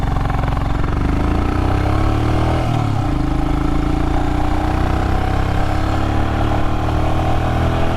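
Royal Enfield Himalayan motorcycle engine running steadily with a low, even thump and some mechanical clatter, close and loud, with a slight dip in revs midway and no talking.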